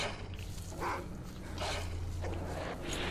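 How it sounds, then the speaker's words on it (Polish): A dog in the game S.T.A.L.K.E.R. gives several short barks and whimpers in bursts, faint and somewhat distant over a low steady hum, with no voices. "Jak tu przechodzimy koło tego psa"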